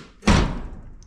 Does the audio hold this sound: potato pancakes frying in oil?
no